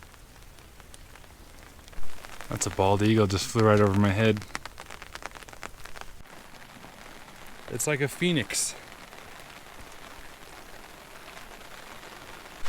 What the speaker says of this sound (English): It has not stopped raining this entire hike.